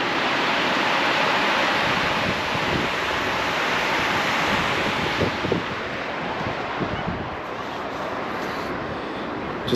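Strong wind roars and buffets steadily beside Mammoth Lake near a spillway, a loud, constant broadband rush with no voices.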